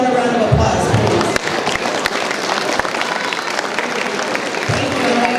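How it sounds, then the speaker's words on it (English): Audience applause at an awards and anniversaries soiree, a dense steady clapping from a crowd that fills the whole stretch, loud and close, with a few sharper claps standing out. "Let's give them a round of applause, please."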